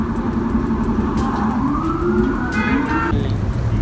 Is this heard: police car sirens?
yes